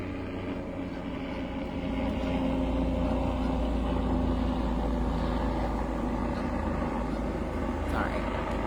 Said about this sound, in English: Uh-oh, helicopter.